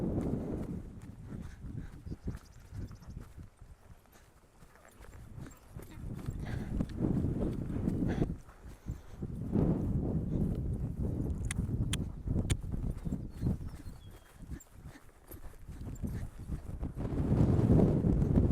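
Hooves of a ridden horse clip-clop steadily on the ground throughout, close and moderately loud, with wind buffeting the microphone.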